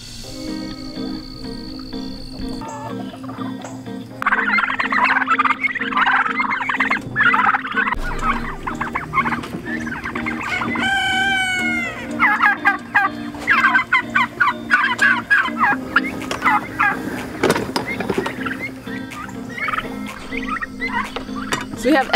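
Turkeys gobble repeatedly on a farm that also keeps chickens, ducks and goats, their loud, close, bubbling calls overlapping in bursts across the clip with other fowl noise.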